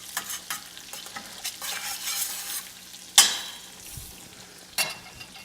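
Garlic and fresh herbs sizzle in a pan with a soft, continuous frying hiss, broken by a couple of sharp, louder scrapes or clinks of stirring.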